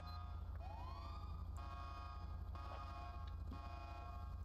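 Ambulance siren in the police video game LSPDFR for GTA V, a faint wailing sweep over a constant low engine drone, with no voices.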